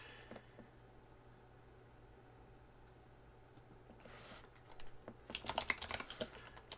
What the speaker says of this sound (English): Don't mind the typing.